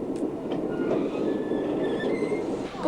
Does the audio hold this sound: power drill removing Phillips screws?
no